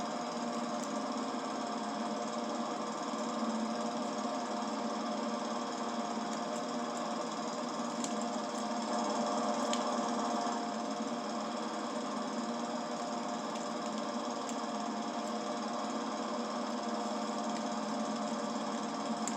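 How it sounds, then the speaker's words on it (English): A lawn mower cuts through grass on rural land, its engine droning steadily at moderate distance with a constant rattling hum and slight variations in load. "I don't know how this thing's actually cutting through this grass. I mean, I know the mower can do it"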